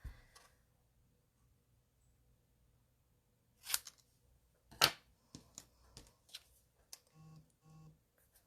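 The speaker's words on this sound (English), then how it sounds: "I'm just going to use a pair of scissors and we're going to trim it on an angle." Scissors trim card at an angle in a quiet room, giving a few crisp snips and a cluster of short cutting clicks, close and fairly soft.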